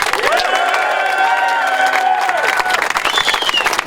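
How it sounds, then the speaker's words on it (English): Crowd at a union rally for Amazon workers in San Francisco applauds and cheers steadily, with whoops and shouts rising over dense clapping that carries through the whole stretch. "Let's give her another round of applause"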